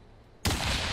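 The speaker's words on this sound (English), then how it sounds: "One of them is just a normal rifle shot," Near silence breaks into one sudden, loud rifle-shot effect, its blast sustained and roaring to the end.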